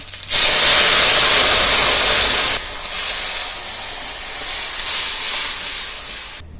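Lentils for shukto-style dal tipped into hot tempered oil set off a loud burst of sizzling hiss that settles after a few seconds into a steady, quieter frying sizzle, with no talking.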